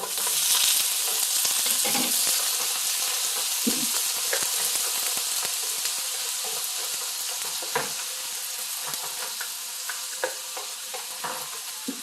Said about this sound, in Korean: 이제는 해물을 넣을게요